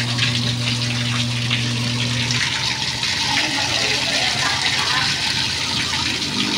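A 1.5 HP deep well pump with a 2.5-inch pipe pushes water out in a steady loud gush, and a low motor hum fades out partway through while the rushing flow keeps going.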